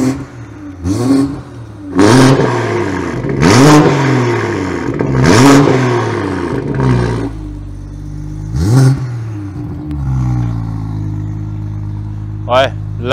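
Car engine blipped repeatedly with short throttle stabs, each rev rising and falling in a quick vroom, close and loud, with people talking over it between the bursts.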